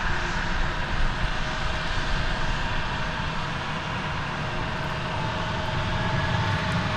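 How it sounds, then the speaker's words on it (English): Airplanes queue to take off on runway 36 Right at DFW airport, producing a continuous loud, broad jet-engine roar that holds steady with no talk. "what we call here in Texas a passel of planes lining up to take off on 36 right"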